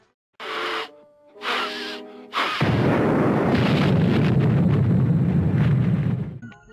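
A loud, sustained explosion roars for several seconds in the Tom and Jerry Chase video game, following two short tonal game sounds and then cutting off sharply.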